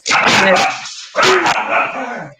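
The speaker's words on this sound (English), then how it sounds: "There will probably be some dog barking throughout this" Dogs barking indoors in a home, two loud close bursts of barking and yipping separated by a short gap, with some whimpering sounds mixed in.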